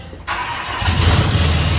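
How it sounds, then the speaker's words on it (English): A truck engine cold-starts in a parking garage: a quiet lead-in, then an abrupt crank and catch, settling into a loud, rough, rising idle that fills the space. "Cold start?"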